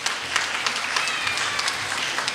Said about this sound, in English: Shall we hear a long round of applause for them?